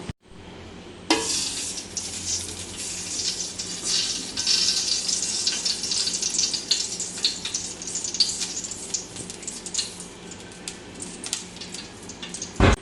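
RKG ghee poured into a heated copper pot for kappa dhum biryani bursts into sudden loud sizzling after a moment of quiet, then keeps hissing and crackling steadily close by without voices.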